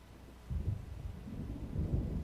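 Low rolling thunder from an approaching storm in the game Alan Wake, a deep rumble that swells twice over faint background noise, fairly quiet and distant.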